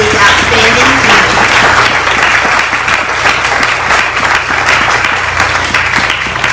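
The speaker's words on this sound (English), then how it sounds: "let's give a round of applause for this outstanding team" Loud, sustained applause from an audience at a senior health clinic's grand opening, steady clapping filling the space throughout with a few voices mixed in.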